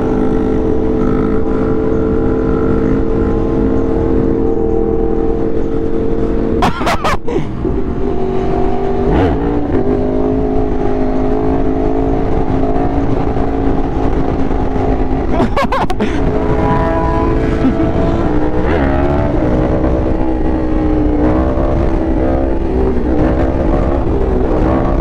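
A 2021 Yamaha R1 sport motorcycle being ridden, its engine droning loud and close throughout with wind rush and shifting pitch as it accelerates and settles.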